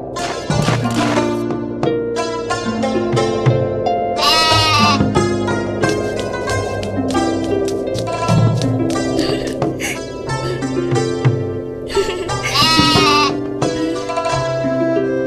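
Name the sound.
goat bleating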